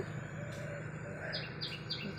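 Faint bird chirps after rain, short high calls repeating a few times over a steady low background hum, distant and quiet.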